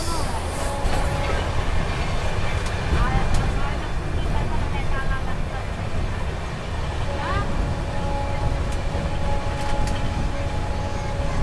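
The Jallianwala Bagh Express between Jalandhar and Delhi runs at speed, heard from on board as a loud, continuous rumble with rhythmic wheel clatter and brief metallic squeals and tones throughout.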